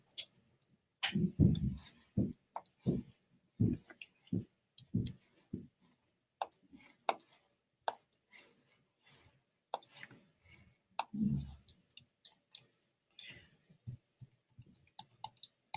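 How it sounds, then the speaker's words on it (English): Sharp keyboard clicks tap out in irregular bursts with pauses between, close and crisp, with no talking. "So I'm going to hit Command T on the keyboard."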